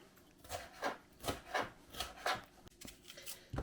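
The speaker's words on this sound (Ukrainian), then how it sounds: "тепер залишилось нарізати болгарський перець нарізати буду такими смужками" A knife slices a bell pepper into strips on a board, giving about eight quiet, regular cuts with soft scraping strokes, each a short rasp followed by a tap, close and alone.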